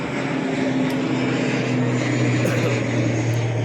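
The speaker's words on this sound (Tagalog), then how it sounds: "Kasama yung aeroplano sa taas." A propeller airplane passes overhead above the Baclaran market area, a steady loud engine drone with a low hum that fills the whole moment without pause.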